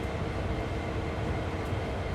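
Freight train rolling along the Sand Patch Grade in the Train Sim World 2 game, a steady, loud, broadband rumble of wheels and wagons with no speech.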